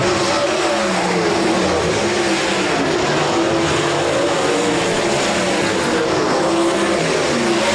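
360 sprint cars roar around the Rapid Speedway dirt track, a loud, continuous wall of engine noise with rising and falling revs as the pack circles.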